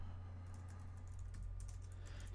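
Keys on a computer keyboard clack in a quick, steady run of soft taps, faint and close, over a low electrical hum, with no voices.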